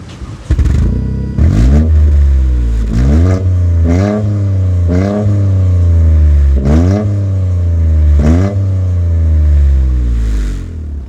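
A 2024 Toyota GR Corolla performance hatchback pulls away hard, its engine revving loudly and close through repeated upshifts, each rising whine cut by a brief drop between gears.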